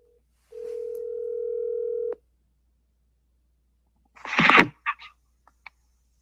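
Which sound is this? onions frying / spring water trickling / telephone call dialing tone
telephone call dialing tone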